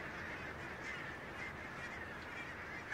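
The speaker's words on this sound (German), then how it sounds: "Zehntausende Gänse sammeln sich an den Küsten im Südwesten" Geese honk on the coast of southwest Scotland in winter, a soft, distant chorus of calls over steady ambient noise.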